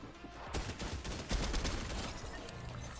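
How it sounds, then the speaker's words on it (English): Rapid bursts of gunfire from the Fortnite video game, a quick fusillade of overlapping shots at moderate distance after a short quiet lead-in. "Kind of hearing gunshots all around me"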